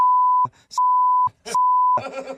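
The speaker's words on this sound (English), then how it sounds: "You didn't understand any of that because that was all beeped." Censor bleeps cover a spoken name three times: steady, loud electronic tones, each about half a second to three quarters of a second long, separated by brief clipped fragments of speech, followed by ordinary talk at the end.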